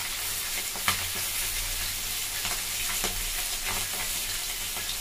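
Tangra catfish frying in a pan with oil, a constant loud sizzle with occasional sharper crackles and soft stirring scrapes, close and without talk.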